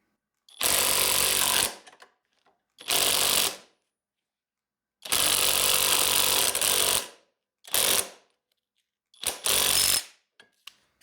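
A $170 Uaoaii IW800 brushless cordless impact gun loosening a nut on a bolt, firing in five loud rattling bursts of one to two seconds each, separated by silent pauses, with no talk.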